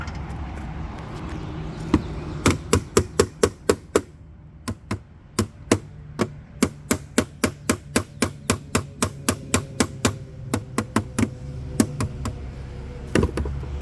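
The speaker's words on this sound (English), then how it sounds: "I'm gonna tap this with a hammer a couple times and make it so that gap closes" A hammer taps over a crack to close the gap, giving about thirty sharp, close knocks in quick irregular bursts with short pauses, over a low background hum.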